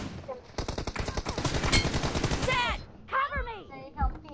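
Rapid automatic gunfire in PUBG Mobile rattles for about two seconds in a dense burst, then cuts off as a voice talks over the game sounds.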